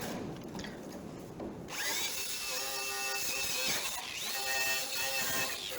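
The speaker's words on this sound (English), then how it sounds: "we're going to start the cleanup with a wire wheel" A power-driven wire wheel scours a 1968 Dodge Charger R/T trunk pan, cutting through old sealant and panel bond. A brief scrape comes first, then a loud, steady grinding whine with a high ringing tone that runs close and continuous.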